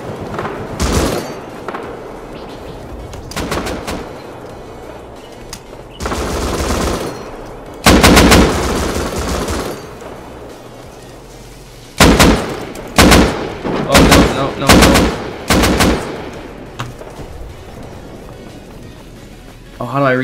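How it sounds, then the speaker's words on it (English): Repeated bursts of automatic gunfire and single shots in the survival game Rust, loud and close, coming in clusters with short quiet gaps between them while a voice talks over parts of it. "There's so many people getting shot right now, it's just crazy."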